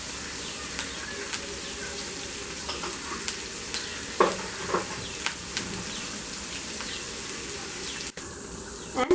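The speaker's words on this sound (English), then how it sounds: "Here I am adding a teaspoonful of cumin seeds," A teaspoon of cumin seeds fries in hot oil with a continuous close sizzle, dotted with faint pops and light utensil taps, a low hum beneath.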